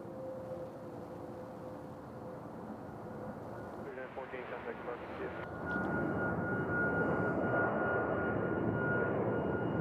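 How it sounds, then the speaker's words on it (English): An airliner departs Nashville International Airport, its jet engines giving a steady distant roar that rises and thickens midway through, with people talking faintly nearby. "this plane's going to Raleigh, Durham."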